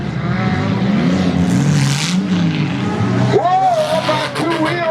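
Demolition derby cars roar around a dirt track at a TNT derby in Ludington, Michigan, with steady loud engine noise, a rising whine near the end, and a commentator talking over it throughout.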